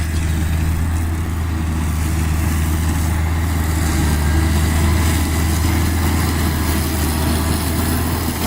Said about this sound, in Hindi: तो ये जो है घास काटने का ट्रैक्टर है।